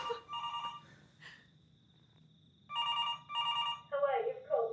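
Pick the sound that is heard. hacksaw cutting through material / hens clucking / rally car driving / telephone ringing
telephone ringing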